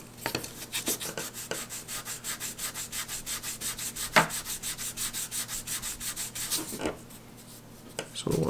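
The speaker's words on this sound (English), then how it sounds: "it is time to start sanding everything" Steady back-and-forth sandpaper rubbing, a rhythmic scratchy rasp repeating evenly at close range, with a few louder strokes.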